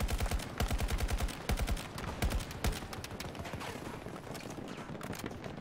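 Rapid bursts of automatic gunfire from the video game Battlefield 2042, crackling in quick clustered volleys over the first few seconds, then thinning to scattered, fainter shots.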